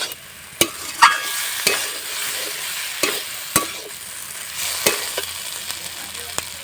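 Boiled wheat-flour dough pieces are stirred in a hot pan, with a steady sizzle under sharp scrapes and clicks of the utensil at irregular intervals, close and moderately loud, no voices.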